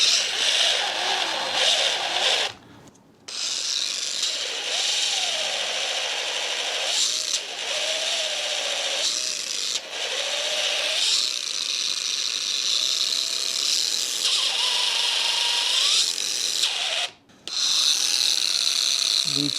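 A Duratech cordless polisher, bare head with no pad compound, runs under load in short bursts with changing pitch, a loud steady whine broken by brief pauses, close up.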